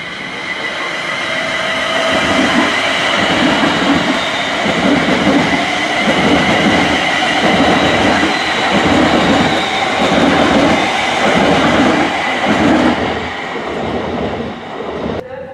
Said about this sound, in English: Now I just heard the 16:36 the cruise just arrived